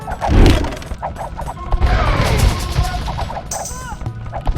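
Mangonel stone shots and crashing impacts in an Age of Empires match, a dense clatter of hits, thuds and battle noise with a heavy crash near the start, loud and busy throughout.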